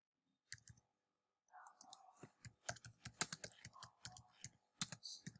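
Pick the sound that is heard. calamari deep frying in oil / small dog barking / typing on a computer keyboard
typing on a computer keyboard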